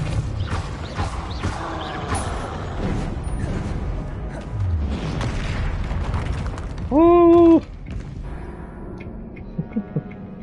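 Spells cast in the video game Hogwarts Legacy, including Confringo fire blasts, give repeated booming bursts and magical whooshes over a dense game soundscape, with a bright ringing tone partway through.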